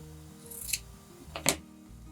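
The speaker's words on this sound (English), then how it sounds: "So I'm just going to snip that off both sides." Two crisp scissor snips cutting the edges off a fabric strip for a rag rug trivet, close and quiet, about a second apart.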